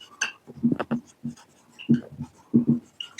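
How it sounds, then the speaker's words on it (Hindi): Writing on a board during a class 12 maths lesson on integration, heard as short scratchy strokes in irregular bursts with brief gaps between them. "हम इधर लिखते हैं, एक कॉलम में हम लिखते हैं डेरिवेटिव"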